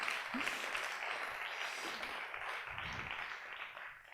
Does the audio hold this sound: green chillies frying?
no